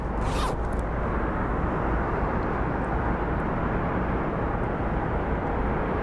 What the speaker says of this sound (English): we have our Envoy Air coming in from Fargo, and then we have our United Airlines 1944 coming in from Chicago